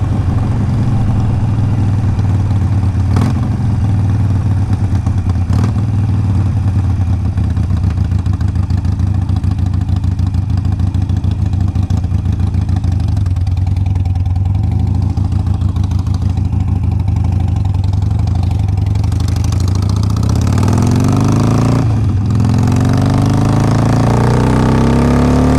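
A 2007 Harley-Davidson 883R motorcycle engine rumbles steadily on a test ride, a loud, close, continuous low drone that slowly builds as the bike gathers speed, with wind noise and no talk.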